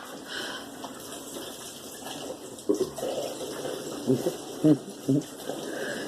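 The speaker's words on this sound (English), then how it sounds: "the water is hitting that, so water's just splashing everywhere" Running water from a kitchen double-sink tap strikes the middle divider and splashes, a steady soft gush in the background, while people talk over it with occasional louder bursts.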